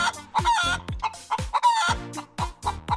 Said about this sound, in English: This is a chicken. The chicken says, cluck,